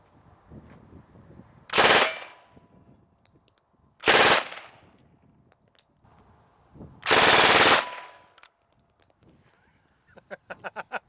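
Soviet WWII-era PPSh-41 submachine gun fired outdoors in three loud sustained full-auto bursts of rapid fire, separated by quieter gaps, with a faster string of sharp individual reports near the end.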